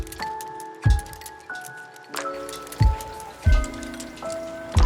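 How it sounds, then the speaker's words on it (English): Steady night rain in the Philippines patters on surfaces, with a few louder low thumps of drops and faint clinking tones ringing through the soft wash. "it rained later that night"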